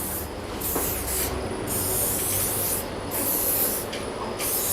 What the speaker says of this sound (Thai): จัดเซตให้เป็นธรรมชาติสเปรย์อ่อนๆหน่อยพี่